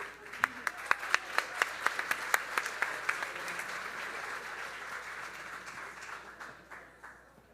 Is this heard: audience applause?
yes